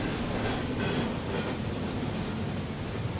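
Steady, loud rumble and roar of the Golden Chariot luxury train's locomotive running, heard from inside with a continuous mechanical drone.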